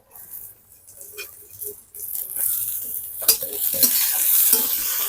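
Capsicum stirred and fried in a hot pan for about a minute with onion, bay and curry leaves: a few scraping stirs and utensil clicks at first, then a loud, close, rising hiss of sizzling oil that holds steady.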